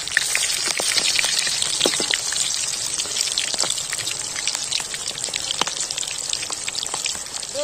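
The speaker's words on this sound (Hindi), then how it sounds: "फ्राई एक तरफ ही हो गया है तो दूसरे तरफ हम उनका करके फ्राई कर देते हैं" Quail frying in hot oil in a kadhai at an outdoor village cook-up, a dense, steady crackle and sizzle with bursts of spitting pops, loud and close throughout with no voices.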